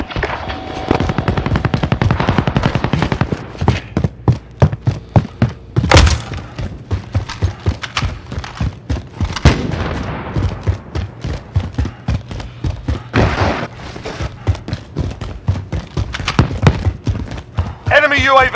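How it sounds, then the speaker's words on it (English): Rapid bursts of automatic gunfire and single shots in the Warzone battle royale video game, loud and close, repeating in fast rhythmic volleys throughout while players talk over the action. "I'm just marking where this gunfire was."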